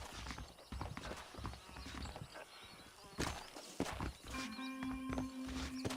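Horse hooves clip-clop steadily in the Red Dead Redemption video game, with rhythmic close hoofbeats, a whinny and a tonal game sound near the end, and speech-like voices mixed in.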